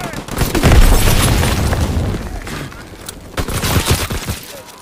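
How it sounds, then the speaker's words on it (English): A grenade detonates in a combat video game, a loud booming blast that rolls and fades, followed by scattered crackling bursts and debris, with a voice briefly speaking over it. "Throwing second grenade!"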